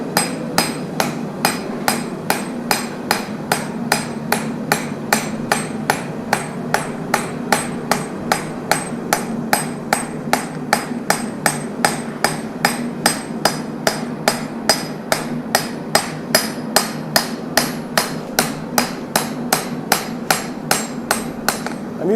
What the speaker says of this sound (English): I'm using the ball peen.